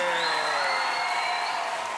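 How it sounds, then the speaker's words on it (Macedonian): Studio audience applauding the judges at a Macedonian Idol televised gala night, a steady dense wash of clapping with cheering mixed in, sustained for the whole moment over a faint tonal backing. "И ако може еден аплауз за судите!"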